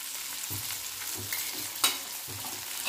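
Carrots and peas sauté in a pan, a steady soft sizzle broken by repeated scraping stirs roughly every half second, with one sharper clack of the spoon against the pan.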